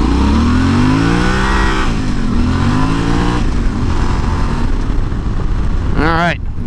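Yamaha Tenere 700 motorcycle ridden at night with a Camel ADV anti-bobble headlight kit, loud close engine drone rising and falling through gear changes, then a sharp rev near the end.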